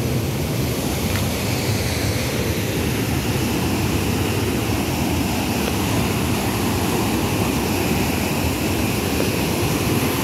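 A rain-swollen waterfall at the Loreto dam roaring as a loud, unbroken rush of water, dense and constant from start to finish with no pauses.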